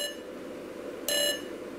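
A Frogger-style hop sound synthesised through an ESP32's DAC comes out distorted: a steady buzzy electronic tone with a brighter, louder bleep burst near the end, alone with no voices.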